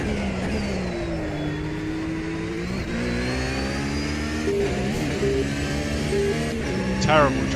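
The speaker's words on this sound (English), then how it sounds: "Engine sounds much more realistic." Race car engine lapping Monza in the Automobilista 2 racing game, a steady high-revving drone that rises and falls through gear changes, with a voice speaking over it.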